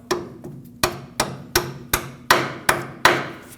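A hammer strikes a punch to drive a stuck bolt out of the steering knuckle on a 1998-2011 Ford Ranger front suspension, eight sharp metallic blows in a steady rhythm, close and loud, with no talk.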